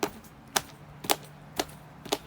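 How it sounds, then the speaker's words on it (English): A group of people at a vacation Bible school stomping their feet and patting their thighs in a loose rhythm: five sharp, slapping thumps spaced about half a second apart, with no talking. "stomp your feet and pat your thighs."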